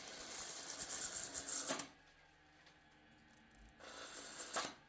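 Skew chisel cutting a large dry wood vase spinning on a lathe: a harsh, hissing scrape for almost two seconds, a quieter stretch of motor hum, then a second brief cutting pass, close and loud with no talk.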